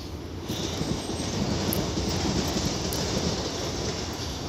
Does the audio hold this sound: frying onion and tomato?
no